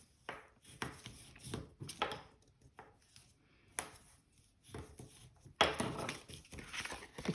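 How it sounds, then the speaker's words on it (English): Paper tab for a double-faceted box being folded and burnished: a run of short crisp scraping and pressing strokes, close and fairly quiet, with no talk. "I'm just going to fold and burnish"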